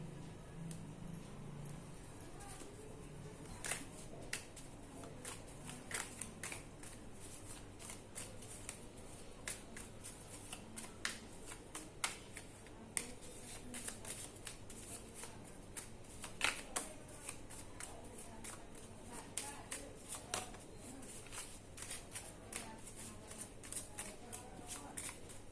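Angel cards being shuffled by hand, a quiet, close run of repeated papery riffles and crisp clicks at an uneven rhythm, with soft talk in the background.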